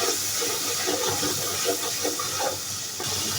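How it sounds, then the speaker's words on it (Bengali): Garlic paste frying in hot oil, a steady, close hissing sizzle that holds throughout with a few bubbling pops. "এখন আমি এর মধ্যে দিয়ে দিচ্ছি রসুন বাটা এই তেলে একটু ভেজে নিচ্ছি"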